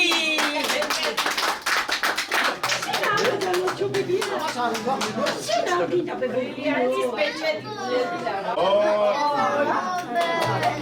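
A crowd bursts into dense, lively clapping for several seconds, with children's voices and excited chatter mixing in as the applause thins out.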